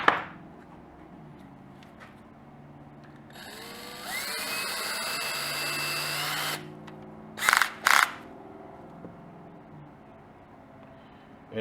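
A small 1/16 drill bit whirs for about two seconds while cleaning a paint gun, a high whining spin in an otherwise quiet room, followed by a couple of short sharp clicks or taps.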